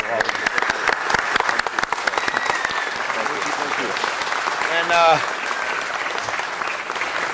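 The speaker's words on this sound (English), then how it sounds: "they deserve a big hand of applause" Applause at a city council meeting for Costco employees, a sustained wash of many hands clapping at steady loudness throughout, with a voice briefly speaking over it near the end.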